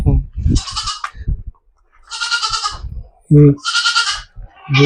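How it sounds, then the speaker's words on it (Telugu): Several goats bleat loudly nearby in repeated wavering calls at a livestock shed in a tribal village, interleaved with someone talking. "మేకలు"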